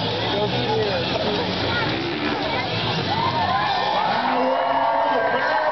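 Crowd at the Big Butler Fair cheering and whooping after a run, a loud continuous roar mixed with babble and shouts, with an announcer speaking over it.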